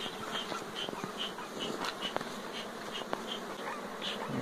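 Honeybees buzz steadily around open hives during an inspection of two weak colonies, a dense continuous hum with individual bees flying close past, no talk.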